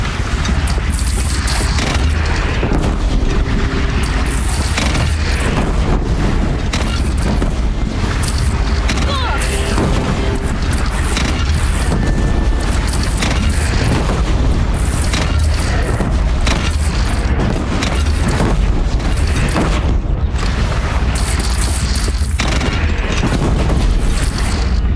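Heavy cannon blasts and explosions boom continuously in a loud Horizon Zero Dawn battle, dense rumbling bursts layered under shouted voices and game score.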